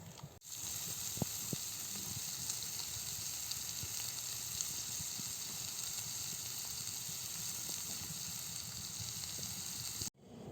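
Meat and vegetables sizzle in fat on a clay barbecue grill outdoors in a village, a steady close frying hiss with scattered crackles running unbroken for about ten seconds.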